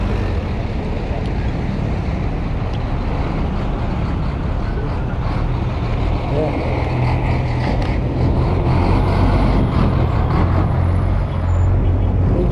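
Busy road traffic with trucks and buses, a loud, continuous low rumble of engines passing close by, with a brief air-brake hiss partway through and no voices.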